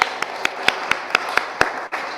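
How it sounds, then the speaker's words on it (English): Clapping for Mike as he receives a bronze certificate at a climate emergency talk, a sparse, regular series of distinct claps about twice per second, close and crisp, with a soft bed of room noise behind them. "Can we give Mike a round of applause?"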